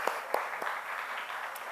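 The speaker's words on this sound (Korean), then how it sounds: "자, 박수" Light, thin applause from a church audience during a sermon, with a few distinct claps standing out over a soft steady patter, fairly quiet and somewhat distant.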